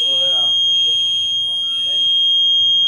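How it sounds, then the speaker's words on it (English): A fire alarm sounds inside a four-story housing building, giving a steady, piercing electronic tone close by while people talk underneath it. "The fire department has to come down to turn the alarm off."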